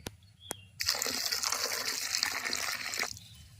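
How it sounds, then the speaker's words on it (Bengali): Water poured from a mug into a palm-fruit pitha mixture in a home kitchen, a steady splashing gush lasting about two seconds after a brief clink, close and fairly loud with no talking. "এবার জল দিয়ে দেব"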